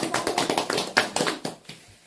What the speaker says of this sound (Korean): 오늘 교회 처음 나오시고 환영의 박수로.